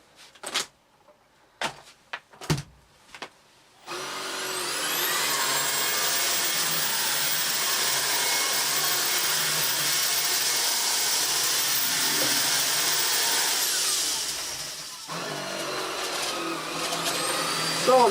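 A Beko VRT6221P cordless vacuum cleaner switches on after a few knocks and handling clicks, then runs with a loud, steady whine and broadband rush before cutting out and restarting near the end.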